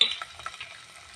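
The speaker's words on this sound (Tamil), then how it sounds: "நல்லா ஃப்ரை பண்ணி எடுத்துக்கலாம்." Spices for mango rice fry and get stirred in a pan, with a brief soft sizzle and a few light scraping stirs, close and fairly quiet.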